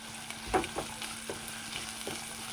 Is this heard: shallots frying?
yes